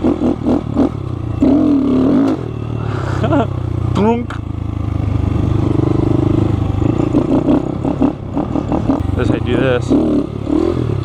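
A Honda Grom motorcycle engine revs and climbs in pitch through wheelies, rising and falling between bursts, nearby and loud under frequent talking.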